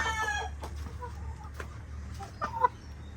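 Gamefowl roosters, brass back and white kelso, cluck and call softly on a farm, with short scattered clucks and a brief louder call near the end over a low background hum.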